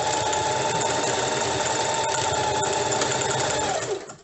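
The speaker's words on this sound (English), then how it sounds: "you're gonna sew this end" A sewing machine runs steadily as it stitches the end of a fabric scrunchie, a loud continuous mechanical whir close up that winds down and stops at the very end.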